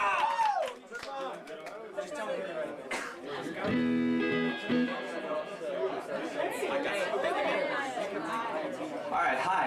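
A crowd at a live music venue chatters loudly and continuously, overlapping voices filling the room with a brief patch of clapping and cheering partway through.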